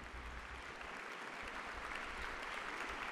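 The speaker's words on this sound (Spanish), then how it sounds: "Aplausos, aplausos, aplausos." Steady, dense clapping from a crowd, sustained and even throughout with no voices standing out.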